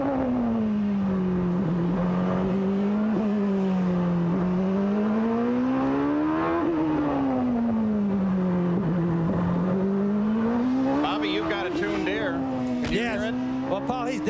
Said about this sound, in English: Let's listen to Nigel's engine now as he approaches the Toyota turn